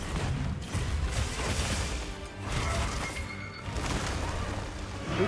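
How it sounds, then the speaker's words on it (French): A crashing explosion in the video game Monster Hunter Wilds, during a fight against an Alpha spider and an artificial T-Rex, with loud, dense bursts of noise and impacts running through the whole stretch. "Oh, j'ai pris l'explosion."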